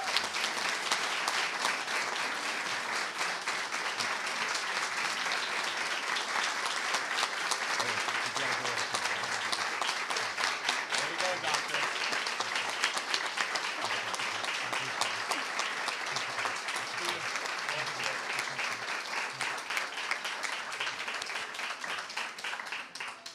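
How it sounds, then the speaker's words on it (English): Long, sustained audience applause at a school board meeting honoring teachers earning tenure. Dense, even clapping from a full room holds steady for over twenty seconds and tapers slightly at the end. "please give them one more round of applause"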